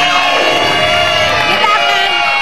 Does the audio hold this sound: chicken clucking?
no